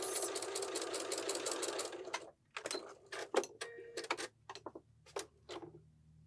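A sewing machine stitches a column of a fish quilt block. A fast, continuous run of needle strokes is followed by a series of short stop-start bursts, all fairly quiet and close, with no talking.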